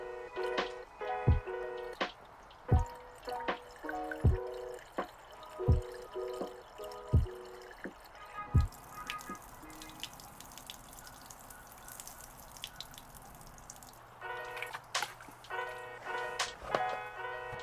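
Water running out the back of a boat during winterizing of a MerCruiser 3.0 engine, heard as quiet irregular drips and splashes with a steady trickle underneath, fairly soft and unaccompanied by any voices.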